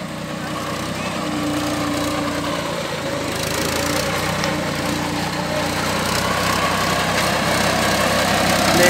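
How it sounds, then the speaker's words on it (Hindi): A worn-out 1998 Mahindra 265 DI tractor labours under load, its engine drone steady and close with a rough, grinding gearbox noise running through it, growing slightly louder over the whole stretch. "गियर बॉक्स में आवाज है फिर भी ताकत लगा रहा है।"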